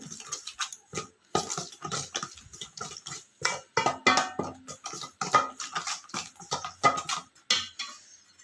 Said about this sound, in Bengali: ফেটিয়ে আসলে সুন্দর করে ফেটিয়ে নিয়েছি